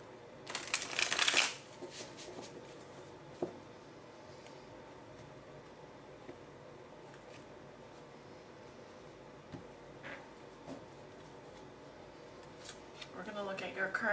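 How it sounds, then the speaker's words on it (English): A tarot deck riffled and shuffled briefly near the start, then near-silence with faint handling clicks, and another soft shuffle at the end. "Let's do one more here."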